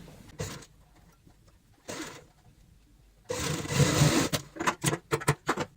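A sewing machine stitching fabric strips for a handmade purse, with short whirring runs at first, then a longer stitching burst followed by quick stop-start pulses, close and clear.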